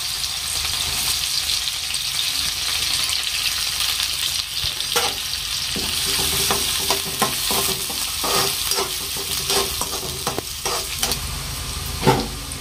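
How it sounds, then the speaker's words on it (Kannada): Onions fry in a pan with mustard seeds and cumin, a steady close sizzle and hiss with scattered scraping stirs and small pops growing more frequent toward the end. "ಉಳ್ಳಾಗಡ್ಡೆ ಹಾಕೊಂಬಿಡ್ತೇನೆ ನೋಡ್ರಿ ಫ್ರೆಂಡ್ಸ್ ನಾನು."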